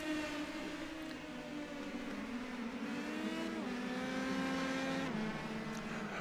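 A race car engine in the iRacing sim, from an Indy Pro 2000 series race where the leader spins off at turn two, holds a steady high whine that wavers and drops in pitch, continuous and moderately loud with no voices.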